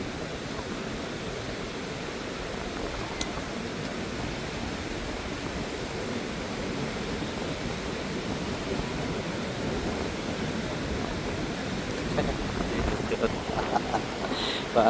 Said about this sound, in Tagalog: Kasi malakas yung hangin.